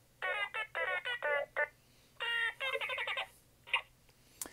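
A Star Wars droid toy resembling BB-8 gives out bursts of rapid, chirpy electronic beeps and warbles, arranged in two clusters with short pauses between them and a few isolated blips after, close and clear with no talk.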